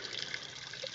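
Spring water running steadily into a rural cabin's water system at an average early-fall flow after recent rain, a continuous close hiss and trickle with no voices.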